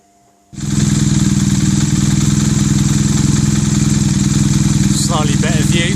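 A Triumph Bonneville motorcycle engine starts up after a brief quiet moment and settles into a loud, steady, close idle with a rhythmic low throb, and a faint voice comes in near the end.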